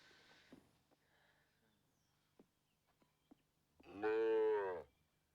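A single loud, drawn-out cow moo swells near the end after a quiet stretch with faint scattered knocks and a brief murmur.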